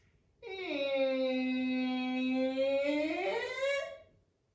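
A human voice imitates a slow creaking door opening, a single drawn-out nasal squeak that bends upward in pitch before stopping.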